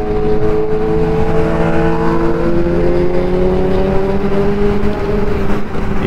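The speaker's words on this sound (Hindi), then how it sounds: "ये जितने बाइक्स जा रही हैं, ये हायबुसा" Traffic on a road, with heavy Hayabusa motorbikes and cars passing: a continuous loud engine drone with steady tonal hum and rising revs, close and unbroken throughout.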